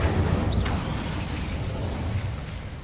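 A fire spell is cast in a Harry Potter video game, giving a loud, sustained roaring whoosh with a brief rising pop near the start, with no talk over it.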